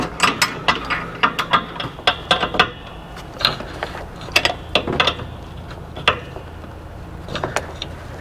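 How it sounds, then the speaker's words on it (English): A wrench tightens a hydraulic hose fitting on an RV auto-leveling system, giving a close series of sharp ratcheting clicks in uneven bursts against a low mechanical hum. "I'm just going to cinch it down with this wrench"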